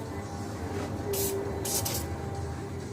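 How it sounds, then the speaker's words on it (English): Cleaner is sprayed onto the disassembled pieces of a hair clipper blade set in two short bursts of close hissing spray over a steady background hum. "What I'm going to do is just spray those down,"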